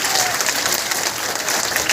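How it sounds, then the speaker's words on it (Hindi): A crowd at an outdoor Adivasi Day rally applauds loudly on request, dense clapping holding steady for the whole stretch with faint crowd murmur beneath. "मंजूर है तो जोर से ताली बजाइए"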